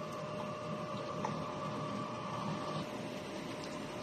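A DTF printer runs its head cleaning cycle with a steady mechanical whir and hum, close and continuous, with faint clicks.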